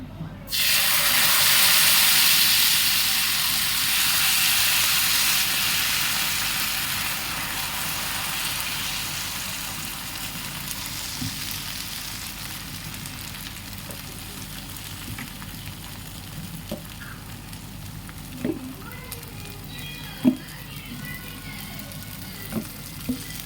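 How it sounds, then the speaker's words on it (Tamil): Onion dosa batter hits a hot pan and sizzles loudly at first, the hiss gradually easing into a softer steady fizz, with a few faint clinks and taps near the end. "இப்போது நான் வெங்காயம் போட்டு ஊற்றி காட்டுறேன் பாருங்கள்."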